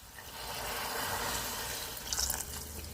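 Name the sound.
pouring water into a curry pan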